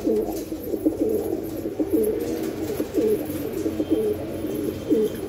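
A Nagercoil blue-beaked pigeon coos repeatedly in low throaty phrases, close and clear against a quiet loft background.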